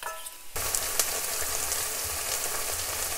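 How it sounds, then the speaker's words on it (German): Chicken pieces frying in oil in a pan with onions and garlic, a steady close sizzle with crackling pops that starts abruptly and runs on without talk. "Als nächstes machen wir ein bisschen Öl in die Pfanne, braten das Hähnchen mit den Zwiebeln hier an."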